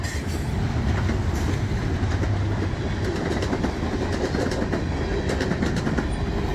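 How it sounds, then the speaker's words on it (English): A CSX SD70MAC locomotive train passing close by: loud continuous rumbling roar of rolling wagons with rhythmic clickety-clack of wheels over rail joints, steady throughout. "It was my first time seeing a CSX SD70 MAC"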